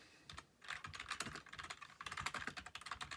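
Fingers tap out a search on a computer keyboard, a quick, irregular run of close, crisp keystrokes with a brief pause early on, quiet and alone.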